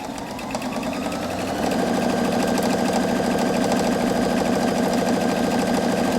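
A Husqvarna Viking Opal 690Q sewing machine starts up and stitches a buttonhole, settling into a steady, rapid mechanical whir with a fast rhythmic needle pulse, close and loud, with no talking.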